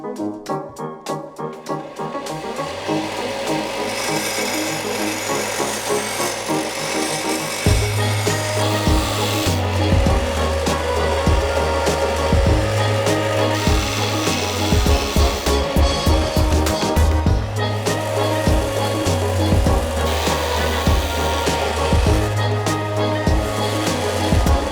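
Rebar being ground down to a smaller diameter with a power tool, a steady harsh grinding rasp with rhythmic pulsing as the metal is worked, continuous and close throughout.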